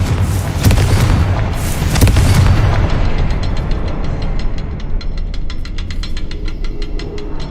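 A Confringo fire spell detonates in Hogwarts Legacy, landing as loud, deep booming blasts early on and settling into a rumbling, crackling tail with rapid rhythmic clicks toward the end.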